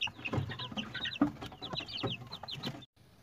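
Chickens and chicks crowded in a coop cluck and cheep in quick overlapping bursts, with soft clucks low and high peeps above, heard close by before a brief quiet at the end.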